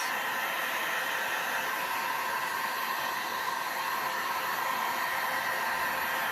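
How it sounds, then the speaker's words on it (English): A heat gun roars steadily and loudly up close, a continuous airy blowing as it pushes pink, grey and white paint around on a resin tray, with no talk. "Heat it up, blow it around."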